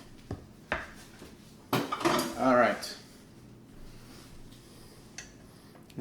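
Kitchen utensils and dishes are cleared off a counter while cooking sausage and beans, with a few separate close clatters and knocks of metal and crockery and a louder jumble of clinking in the middle over a quiet room.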